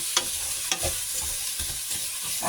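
Garlic and onion frying in a pan for monggo with ampalaya leaves, a steady close sizzle punctuated by a few sharp spatula scrapes and clicks.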